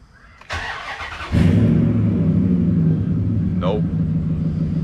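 A 2003 Dodge Ram 1500 pickup, left several days without a battery, cranks and rumbles steadily after a click, a loud continuous engine drone that never clearly catches.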